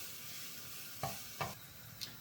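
Shrimp frying in a pan for a gluten-free pasta with garlic and ginger sauce: a steady low sizzle with a few brief stirring knocks, close and moderate in level, no voices.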